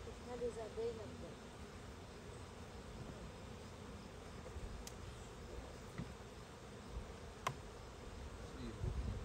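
Honeybees buzz around an open beehive, a dense continuous hum with a few sharper insects passing close, steady and moderately loud throughout with no talk.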